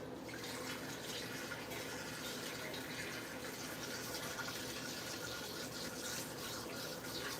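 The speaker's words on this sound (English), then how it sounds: "I guess I'll use this one. Just rinse it out." Tap water runs steadily as a small souffle cup is rinsed out, a continuous close splashing hiss at low volume with no talking.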